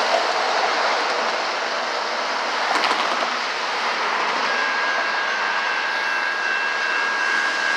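Steady, loud roar of the diesel engine of Union Pacific locomotive 1420 reversing a freight train in Sacramento, California, broad and droning with no voices over it.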